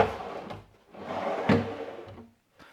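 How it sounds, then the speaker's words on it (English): A wooden drawer in a table saw stand slides out over plywood strips, giving a few soft rumbling scrapes and light knocks spread over a couple of seconds, close and fairly quiet, with no voices. "Pull your plywood strips out and your drawer should be nice and smooth."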